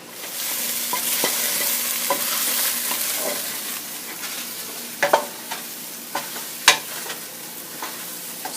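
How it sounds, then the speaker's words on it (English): Onions sauté in a pot over medium-high heat with a steady sizzle, broken by scraping stirs and sharp spoon knocks against the pot. The knocks cluster toward the end, and no one speaks. "We're going to stir it around a little bit and let it warm up and cook until these onions are nice and translucent"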